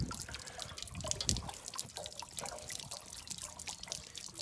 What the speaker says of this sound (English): So we're just gonna let this tank drain.